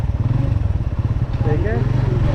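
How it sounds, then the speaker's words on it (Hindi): A motorbike engine hums steadily on a winding mountain road in the Khanpur valley, continuous and fairly close, heard under ongoing conversation between people. "ये भी देखिए जी बाइक आ रहा है, अभी बाइक है"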